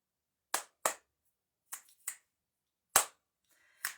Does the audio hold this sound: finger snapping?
yes